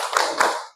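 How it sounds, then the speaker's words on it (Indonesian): Brief concentration clap in a classroom, a couple of quick, close group hand claps in rhythm, short and crisp with no talking. "Ya, tepuk tangan dulu."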